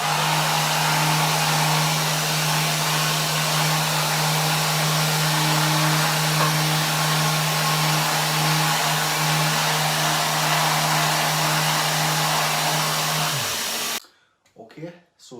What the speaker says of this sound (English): so I'm going to take that surface off using my dustless sander